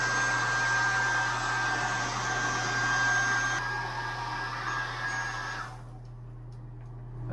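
A dryer runs to dry out soaked sneakers, a steady airy whir with a faint high whine that holds level, then drops to a quieter hum near the end.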